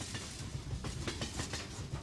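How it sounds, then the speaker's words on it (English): Passenger train on the railway through Tibet, near Golmud, rumbling steadily with a rhythmic clickety-clack of wheels over the rail joints and a broad hiss, constant and enveloping. "the train to the roof of the world at the Gurmu train station"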